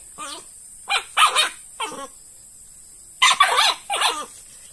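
A pet dog barks at a snake it has caught in a yard, several sharp bursts in uneven clusters, fairly close and loud, with short silent gaps and a steady high-pitched hum underneath.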